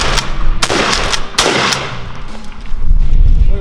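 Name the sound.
shotgun firing steel shot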